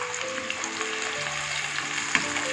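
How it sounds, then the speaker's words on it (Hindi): Onions fry in hot oil, giving a steady close sizzle with a few brief stirring bumps and no talking. "ऑयल गर्म हो चुका है, अभी इसमें डालेंगे प्याज और इसको फ्राई कर लेंगे।"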